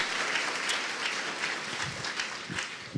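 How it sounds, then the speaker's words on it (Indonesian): A studio audience claps steadily for the full three seconds, a dense, even wash of applause heard close with no voices over it. "kita berikan aplaus untuk yang hadir semua"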